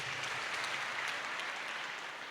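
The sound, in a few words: congregation applauding in church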